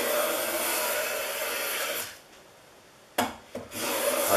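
A Stanley No.65 low angle block plane shaving a wood board: a long, loud hissing rasp of the blade across the grain, a pause, then two short, sharp strokes before another sustained pass.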